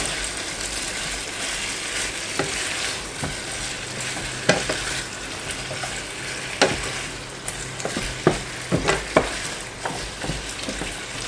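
Chicken wings tossed and stirred in a sticky fish sauce glaze in a hot pan, steady close sizzling broken by repeated scraping and clattering knocks as the wings are turned.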